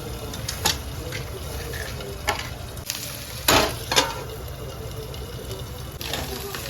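Stuffed eggplant fries in hot oil with a continuous low sizzle, broken by several sharp clatters and spatters from stirring or handling the pan, while a voice talks intermittently.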